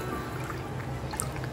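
Water is poured steadily into a cooking pot to boil rice for mutton mandi, making a continuous close splashing rush with small drips.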